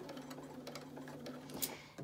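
A sewing machine back stitches a pleated fabric mask, its motor giving a steady, close mechanical whir with rapid needle clatter for about two seconds.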